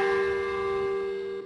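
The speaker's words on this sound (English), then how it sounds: "the church's bells do ring across the country to dissipate the heavy black clouds" A church bell ringing in Syria, one sustained, resonant tone with bright overtones hanging steadily and slowly fading, fairly loud and heard alone.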